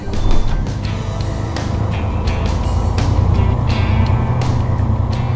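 A truck loaded with beehives drives along a road, a continuous loud engine and road rumble close by, with a few brief knocks and rattles on top.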